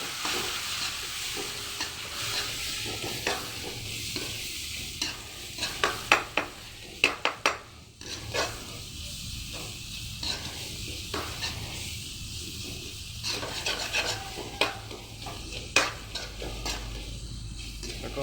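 Chicken and spices fried in hot oil in a kadai, stirred with a utensil: a steady sizzle runs throughout while a spoon scrapes and clinks against the pan in irregular bursts, close up, with no talking.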